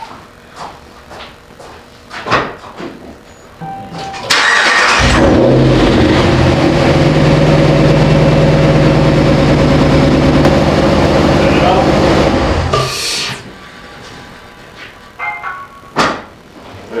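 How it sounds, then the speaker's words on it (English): A truck engine cranks and roars to life, then idles loudly with a deep, steady rumble before shutting off during an oil change; brief voices and clunks come before and after. "Go ahead and start the truck."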